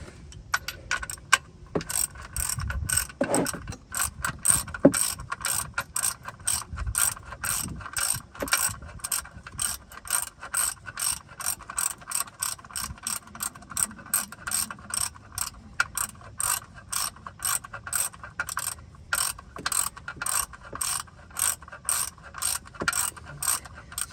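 A ratchet clicks rapidly while tightening the long oil drain bolt on an Audi A4 Quattro during an oil change, bursts of close, crisp pawl clicking repeating steadily throughout with brief pauses.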